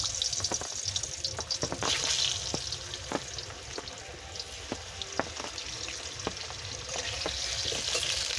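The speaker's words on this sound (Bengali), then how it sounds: "আলুটা ভেজে নেব, সেজন্য কড়াই সরষের তেল দিচ্ছি" Potatoes fry in mustard oil in a wok with a steady, hissing sizzle, broken by scattered sharp clicks and scrapes of stirring throughout.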